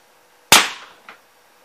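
A Crosman 150 air pistol fires a single sharp, close crack that tails off quickly, followed by a fainter short knock.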